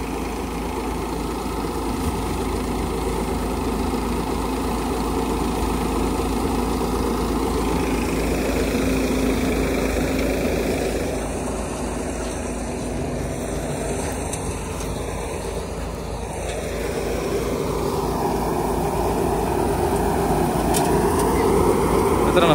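A tractor-driven Vishwakarma multicrop hopper thresher for wheat runs steadily throughout, a continuous droning engine and machine hum with a brief high-pitched whine partway through, close and loud.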